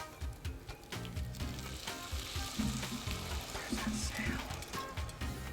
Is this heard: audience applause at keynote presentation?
no